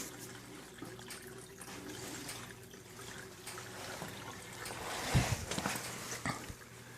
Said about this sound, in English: the siphon didn't break because it's still going just a little bit